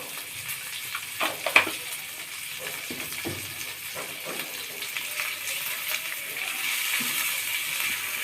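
Fish head frying in a pan with turmeric and chili powder for a North Bengal fish-head and potato dish, giving a steady soft sizzle with scattered pops and light stirring scrapes, with no talking.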